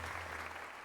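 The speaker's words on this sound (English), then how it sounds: "let us give another heartfelt round of applause to Axe Punisher" Brief burst of steady clapping from a crowd in the video game Pokémon Legends: Z-A, dense and even throughout, with a low electronic hum underneath.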